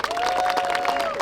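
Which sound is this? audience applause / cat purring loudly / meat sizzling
audience applause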